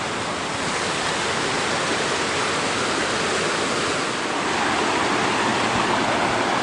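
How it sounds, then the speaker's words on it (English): Creek water cascades down a stretch along the Duncan Ridge Trail with a loud, continuous rushing roar that stays even throughout, with no voices. "Trail comes up, follows the creek for the most part. But look at this, you can see water cascading way up,"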